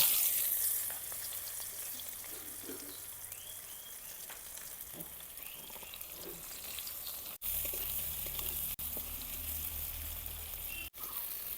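Chopped onion frying in oil left over from frying fish crackles in a steady sizzle with faint stirring, broken by a few sharp brief dropouts, and no one speaks.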